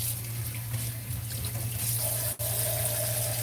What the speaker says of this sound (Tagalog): Patapos na ako maghugas. Mag-iipon na ako ng tubig kasi mamaya mawawala na naman ng tubig.